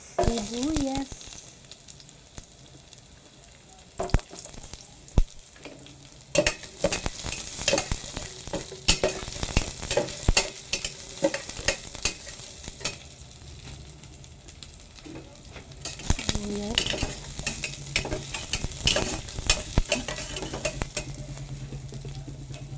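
Onions sauté in a hot pan for misua with patola, an ongoing sizzle broken by repeated scraping stirs and clinks of utensil against metal, close and fairly loud, with no talking.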